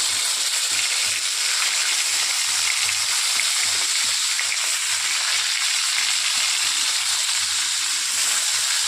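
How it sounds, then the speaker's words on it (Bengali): Bele fish fry in oil in a pan, a steady hissing sizzle that runs continuously and evenly throughout. "দেখুন, সব মাছগুলো আমি ভাজা বসিয়ে দিয়েছি।"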